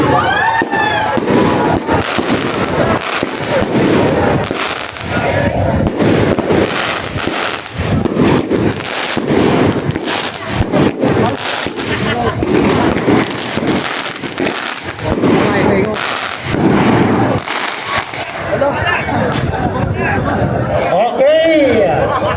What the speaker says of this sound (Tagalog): Thank you so much, Dapa Run, for the fireworks